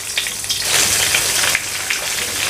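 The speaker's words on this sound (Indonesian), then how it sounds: "Minyaknya sudah panas ya, saya akan masukkan untuk empal daging sapinya." Beef empal, a traditional Indonesian dish, sizzles steadily in hot oil over medium heat, a loud, continuous crackling fry with brief spitting bursts and no voices.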